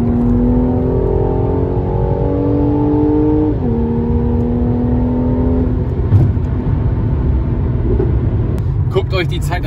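Mercedes C43 AMG with a Stage 1 tune accelerating uphill in traffic, its engine revving in a steady, loud in-cabin drone whose pitch climbs, drops at a gear change and climbs again.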